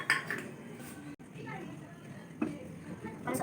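A spoon stirring homemade tomato sauce with vinegar in a pot, with scattered metallic clinks and scrapes of utensil against the pot, close and fairly quiet, while a person talks over it.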